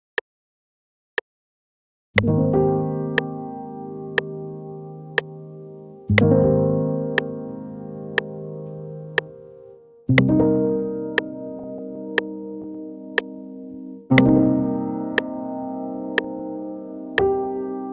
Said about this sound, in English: that is the sound of the Imagiro piano